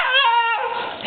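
Husky puppy letting out a high, wavering whimpering cry up close, a single drawn-out whine that breaks off midway into softer breathy fussing, with no voices over it.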